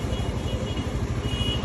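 A Suzuki GSX-R150 motorcycle idles right after starting, with a steady, low, throbbing rumble at close range and no other sounds.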